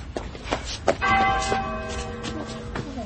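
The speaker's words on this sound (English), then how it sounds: "It's from the school. It's the old bell." An old school bell rings out with a sustained, resonant clang that starts about a second in and hangs over faint room noise and shuffling until the end.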